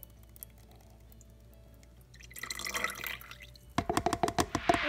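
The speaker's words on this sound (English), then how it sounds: "You get the water and you pour it in" Water pours into the reservoir of a Breville One Cup dispenser, starting as a soft trickle and building into a louder, splashing flow with a few brief glugs near the end.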